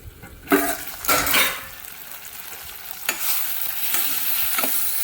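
Tomatoes sautéing in a pan, a steady broadband sizzle with a few sharp spoon scrapes and stirring bursts at intervals, close and moderately loud with no talk.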